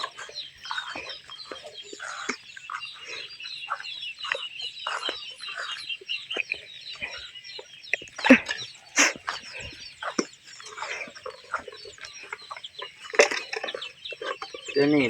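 Chickens cluck and squawk in a rural family yard in the early morning, with several birds calling near and far. Sharp louder squawks break in now and then, and people talk in the background.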